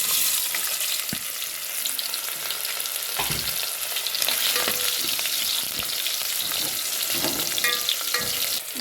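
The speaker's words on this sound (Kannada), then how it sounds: "ಎಣ್ಣೆ ಕಾದೈತಿ ಉಳ್ಳಾಗಡ್ಡೆ ಹಾಕೊಳ್ಳೋಣ" A large sliced onion dropped into hot oil for tempering, a continuous close bright sizzle and crackle with occasional stirring scrapes and clicks, steady throughout with no talk.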